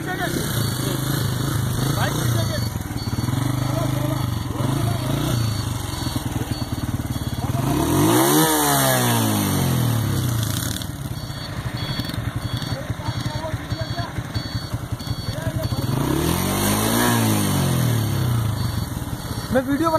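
A Hero motorcycle engine hums steadily while riding on a road, with two loud passing swooshes of other vehicles rising and falling in pitch; people talk throughout.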